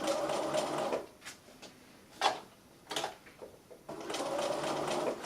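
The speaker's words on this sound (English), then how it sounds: "I'm just going to lift that presser foot and just ease that material around" A sewing machine runs steadily while stitching fabric for a soft toy bear, then pauses with a few clicks and light handling noises, and then starts stitching again, close and fairly loud.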